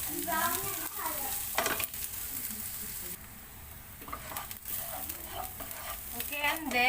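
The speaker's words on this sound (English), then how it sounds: "we saute our onion until it gets translucent or brown" Onion sautéing in a pan for beef spring rolls, a close crackling sizzle with scraping stirs, tapering briefly before livening up again.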